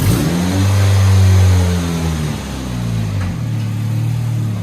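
A 2007 Chevy Cobalt fitted with a Rumble Series exhaust revs up close, the deep exhaust note swelling to a loud peak, easing off, then settling into a rumbling idle.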